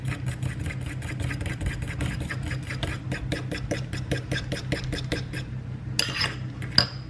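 Melted butter being mixed into banana bread batter in a bowl, with a quick, steady run of light utensil clicks and scrapes against the bowl over a continuous low hum, ending in a couple of sharper clinks.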